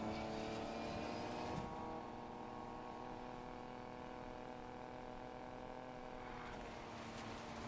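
A car racing in Need for Speed Payback: a steady, loud engine drone with layered harmonic tones that holds throughout, with a brief rougher swell near the start and no voices.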